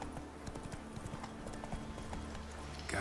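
Roach the horse galloping in The Witcher 3, steady clip-clopping hoofbeats in a quick rhythm, close and moderately loud, with a brief whinny-like burst at the end.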